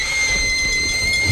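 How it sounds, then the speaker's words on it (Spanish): In the LEGO Jurassic World video game, a character sings a sustained shrill high note to shatter glass. The piercing tone holds steady over a busy game background. "Es tu trabajo aquí romper los vidrios. Cántale. Échate una nota."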